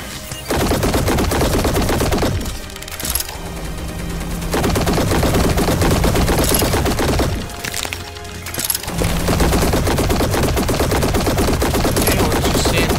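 Sustained gunfire against a robot in the Black Skylands video game, loud dense bursts of rapid shots running almost continuously with two brief lulls, with crashing impacts layered in and no talking.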